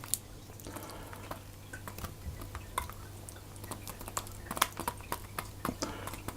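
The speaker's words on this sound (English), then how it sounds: "I'm going to stir in the butter" Butter is stirred into hot passion fruit curd in a pan, giving soft, wet squelching and light spoon scrapes in a quick, uneven rhythm, close and fairly quiet over a low hum.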